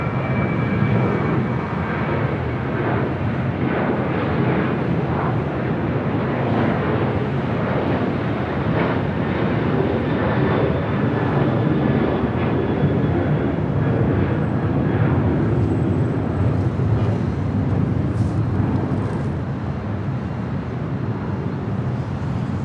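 A Delta Airlines Boeing 737-800 bound for Seattle roars steadily and loudly throughout, a broad continuous jet rumble with wind buffeting, easing only slightly near the end.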